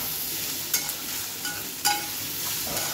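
Tomatoes for a prawn masala sauté in a pan with a steady soft sizzle, broken by a couple of light spatula scrapes and stirs, close and alone.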